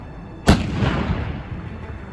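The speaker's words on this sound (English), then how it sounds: "They are the next generation of howitzer launchers, and they are big beasts indeed." A British Army next-generation howitzer fires a single heavy shot, a loud sudden blast whose deep boom rolls out and decays slowly across open ground.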